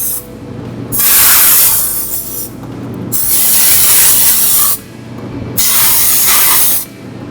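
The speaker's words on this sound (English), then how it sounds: "we did have a little water come out" Water gushes from the drained tank of a fire engine in sub-freezing weather, a loud broad hissing spray in three long bursts separated by brief drops.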